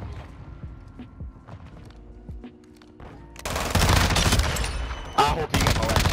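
Rapid automatic fire from the Tempus Razorback assault rifle in Modern Warfare 2, loud sustained bursts after quieter game ambience and scattered distant shots, with a voice talking.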